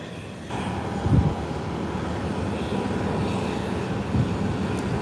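A fixed-wing airplane taxis along an airport taxiway, its engines giving a steady low drone with a soft whine, heard from a moderate distance with a few brief low thumps and no talking.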